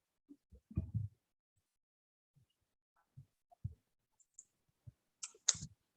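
Computer mouse clicking during desktop software use, a few soft, faint clicks scattered across quiet seconds with no talking.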